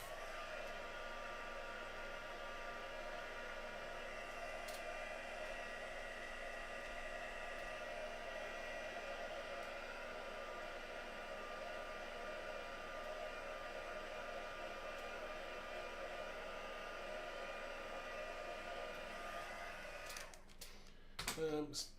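A hair dryer blows steadily on a craft project for about twenty seconds, a constant close whir, then cuts off, followed by brief clatter of handling.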